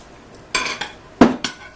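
Dishing up honey garlic roasted ribs with sweet potato, a handful of sharp, close clatters of metal cutlery against plates and serving dishes in quick irregular bursts.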